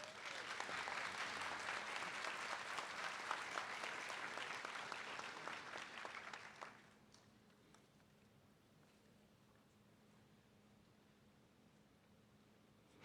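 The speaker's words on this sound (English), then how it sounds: "Please give our honorees a round of applause." An audience at an honors night ceremony applauds honorees: a thick wash of clapping for about six and a half seconds, then it cuts off into quiet room hiss.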